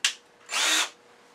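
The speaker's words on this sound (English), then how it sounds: "And then using an electric drill." An electric drill with a brad point bit bores into wood for a coffee scoop project: a short initial whir, a brief pause, then a steady half-second burst of drilling.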